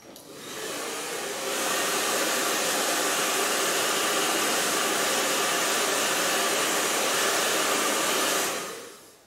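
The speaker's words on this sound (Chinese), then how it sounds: "要把它吹干" A hair dryer blows on an ink landscape painting to dry it, a loud steady whoosh that swells up over the first seconds, holds evenly for several seconds and then fades out, with no voices.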